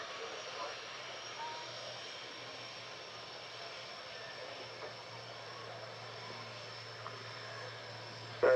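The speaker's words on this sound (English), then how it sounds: "So the Jaguars taxiing back down the runway to return to their parking spaces" Jaguar jets taxi along an airshow runway, heard as a steady, fairly distant engine whine and hum held at a low, even level throughout.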